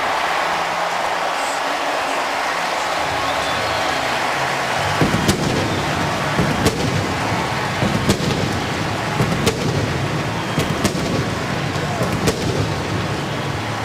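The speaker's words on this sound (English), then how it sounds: "Rob Ryan doesn't want to hear those cannons." Stadium cannons fire at a Buccaneers home game after a touchdown in the 2014 NFL Week 17 Saints–Bucs matchup, a series of loud, sharp booms punching through a roaring crowd.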